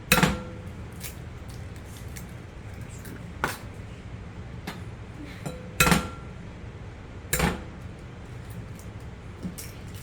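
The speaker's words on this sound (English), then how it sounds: "I like to start cracking with the eggs" Eggs are cracked for a flan mix: several sharp, separate taps of shell against a hard edge, spaced a second or two apart, close and clear over a quiet kitchen background.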